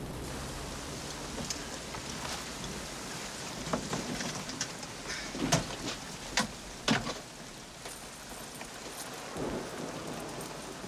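Steady rain hisses throughout with scattered sharper drips and splashes, plus a few louder low rumbles; no voices.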